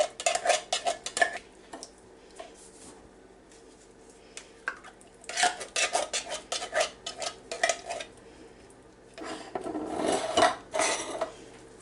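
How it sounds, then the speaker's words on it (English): Thick chili is dumped and scraped from a container into a baking dish for a chili cornbread casserole, with close bursts of clanking and scraping separated by quiet pauses. "Just dump the chili in the dish."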